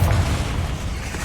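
A Confringo fire spell bursts in Hogwarts Legacy, a single deep boom with a low rumbling tail that fades over about a second, loud and close with no voices.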